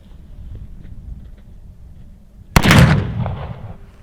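A Remington Rolling Block rifle chambered in 43 Spanish fires a single loud shot at a target about 50 yards away outdoors, after low background rumble, with a sharp report followed by a trailing echo.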